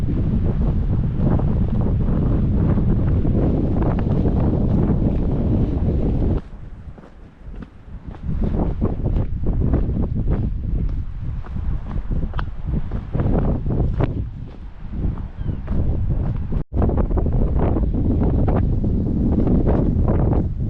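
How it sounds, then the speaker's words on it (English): Strong gusty wind roaring and buffeting nearby, with brief lulls between heavy blasts, a constant rumbling rush throughout. "If I had known it was going to get this windy"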